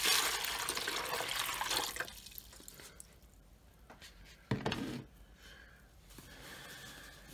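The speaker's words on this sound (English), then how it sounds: "So I'm just gonna pour some water here." Water is poured into a DIY check valve to test its seal, a close splashing gush that tapers off after about two seconds, followed by quieter trickles and a brief splash.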